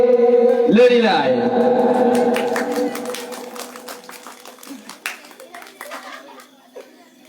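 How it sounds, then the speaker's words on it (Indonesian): Applause breaks out for a team at a school quiz competition at LPI Alyamani, a burst of clapping with some chuckles that fades over several seconds while a voice speaks over it. "Tepuk tangan untuk grup Tengku Ciditiro yang paling bernilai."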